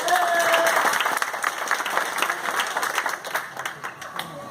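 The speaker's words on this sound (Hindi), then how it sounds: "विकास जी के लिए जोरदार तालियां।" An audience applauds at a seminar in Patna, Bihar, with dense, steady clapping that gradually thins and fades toward the end.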